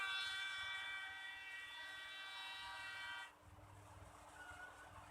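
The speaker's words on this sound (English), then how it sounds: "Aggressive train noises in the background." A train horn blares in a steady tone for a few seconds on the Train map in a Counter-Strike esports match, then cuts off, leaving rumbling rail noise in the background.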